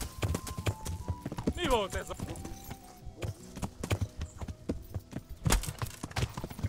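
Horse hooves clip-clop at a gallop in the medieval video game Kingdom Come Deliverance, a fairly close, steady beat running the whole time alongside combat noise and someone talking.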